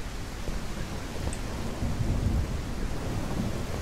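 In the horror game [REC] Paroxysm, steady rain hisses with low thunder rumbling underneath, swelling in the middle; a constant, fairly close storm bed with no talk.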